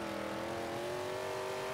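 A GMC van engine in Forza 5 revs high and steady, a continuous buzzing drone holding near the top of its range, close and uninterrupted, with no talking.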